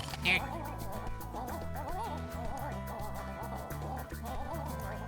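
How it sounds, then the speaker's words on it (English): Silly, honking quack-like bird calls from the video game Ty the Tasmanian Tiger repeat in quick bursts over steady game music, fairly loud and close. "This bird's noises are very silly."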